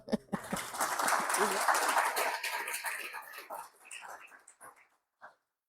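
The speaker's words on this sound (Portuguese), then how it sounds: "uma salva de palmas para" Applause from an audience fills the room for a few seconds, then thins out into scattered claps before fading away.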